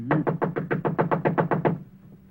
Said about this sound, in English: Knock again.